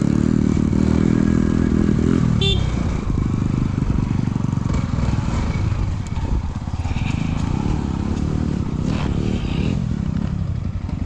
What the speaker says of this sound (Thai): เกียร์หนึ่งก็ได้แล้วมันเบาอ่ะ คันเร่งอ่ะอย่าให้มันเบาเดี๋ยวมันจะดับ